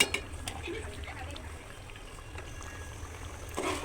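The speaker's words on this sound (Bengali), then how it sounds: "এখন এর মধ্যে আমি পরিমাণ মতো জল দিয়ে দেব।" Hot water is poured into a pot of braised beef tripe, a soft, steady liquid stream with a faint bubbling underneath, quiet and close, ending with a light clatter.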